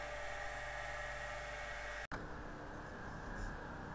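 A single-phase induction motor runs under a load test as a steady, high-pitched electrical whine with a constant hum, briefly cutting out for an instant before continuing in a slightly duller tone.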